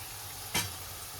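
Shredded potatoes frying in a pan make a soft, steady sizzle close by, broken by one brief, louder burst as they are stirred.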